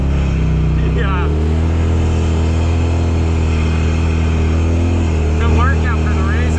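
A Polaris RZR side-by-side runs on an icy winter trail, its engine a loud, close, continuous drone with brief pitch shifts from the drive belt, while people talk over it.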